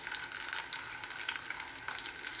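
Banana fritters (maruya) frying in a pan, giving a steady, dense sizzle of hot oil with small crackling pops scattered throughout, moderately close and continuous with no voices.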